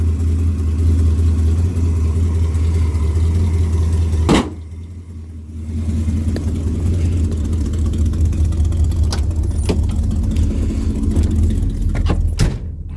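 A 1974 Ford Gran Torino Elite with an oil leak from worn valve cover gaskets rumbles with a steady low engine note, broken by a single thump partway through, before the engine drones on.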